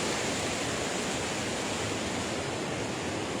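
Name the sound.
waterfall in the Jura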